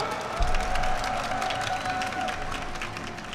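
Applause and cheering from a crowd at a MapleStory winter showcase swell quickly and then hold at a steady, moderately distant roar.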